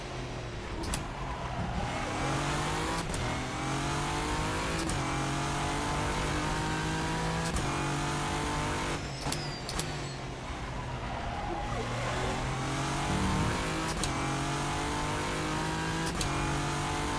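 Race car in rFactor 2 at Sebring: a loud, steady engine roar rises and falls through repeated gear shifts, with tyre noise underneath, continuous throughout.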